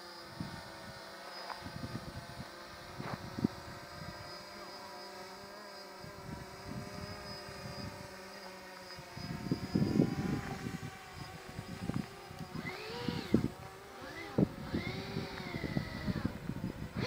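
A warbird propeller airplane engine throttles up from a low idle drone, the tone growing louder and rougher with irregular bursts, while a faint high whine runs steadily beneath.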